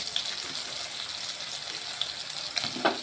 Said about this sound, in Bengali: ভালোভাবে একটু মশলাটা আদাটা লঙ্কাটা ভেজে নিচ্ছি